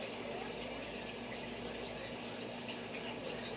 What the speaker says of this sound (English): Sorry about the water running. Running more dishwater.